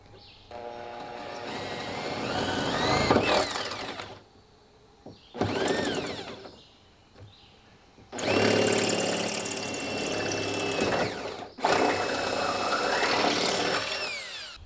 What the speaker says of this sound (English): we've got our 1/4-inch drill bit and we're gonna go ahead and get that first one started.